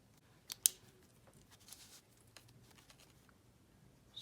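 Scissors trimming paper at a desk, a few soft quick snips with one crisp cut early on, faint and close in an otherwise quiet room.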